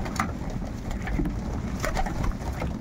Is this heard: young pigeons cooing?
yes